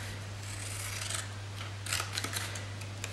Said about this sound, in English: I'm just going to cut diagonally across to the other side